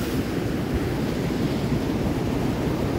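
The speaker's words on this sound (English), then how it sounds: "Those nice waves coming in." Ocean waves rolling in on a Southern California beach in the morning, a steady broad wash of surf with wind rumble, continuous and fairly loud, no voices.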